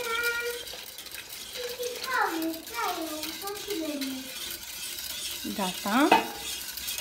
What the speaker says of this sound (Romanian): Mai amestecăm ca să nu se facă copulașe